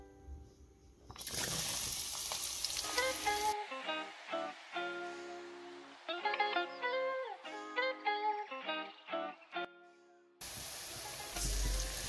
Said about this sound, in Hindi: यहाँ पे हम 150 ग्राम ऑयल ऐड कर चुके हैं, तो अब हम इसमें प्याज ऐड कर लेंगे